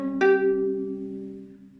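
A single viola note played out of tune, bowed and sustained with a sharp attack, fading gradually over about two seconds, close and alone.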